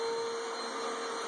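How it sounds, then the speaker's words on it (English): A vacuum cleaner runs steadily on carpet corners, a loud continuous whine and roar with a high tonal hum and no talk. "we're starting to vacuum right now"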